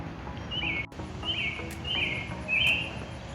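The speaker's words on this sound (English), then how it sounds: "And the birds are singing." Birds sing outdoors over a freshly mowed lawn, four clear bright chirping phrases spaced about a second apart against a low steady background hum.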